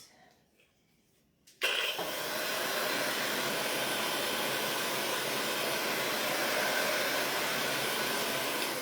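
A hair dryer blasting air over a handmade snowman craft switches on suddenly after a quiet moment and keeps up a loud, steady roaring whoosh, close up and alone without talk.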